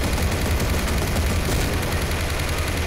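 Machine gun fire in the video game Garry's Mod rattles in a continuous dense burst throughout, loud and harsh with no pauses.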